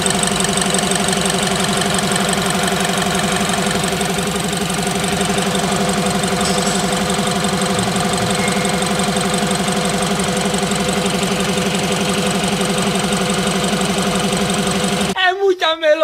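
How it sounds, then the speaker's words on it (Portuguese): A BMW X1 engine idles steadily up close with an even hum and a faint ticking, a leak at the valve cover gasket being repaired, constant for about fifteen seconds before a brief clatter at the end. "Estamos aqui ouvindo a melodia do motor alemão."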